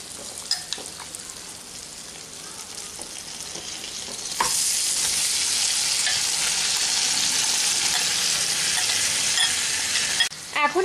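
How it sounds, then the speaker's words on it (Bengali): Chicken dropped into melted butter in a kadai brings a quieter sizzle that jumps to a loud, steady frying hiss partway through, with a few clinks at the start and near the end. "এখন আমি এর মধ্যে চিকেনটা দিয়ে দিচ্ছি ফ্রাই হবার জন্য।"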